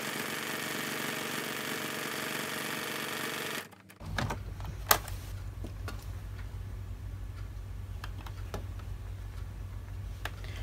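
A sewing machine stitching a project bag through double-thickness batting: a steady motor drone runs until it stops briefly, then the machine restarts with a low hum and occasional ticks and clicks.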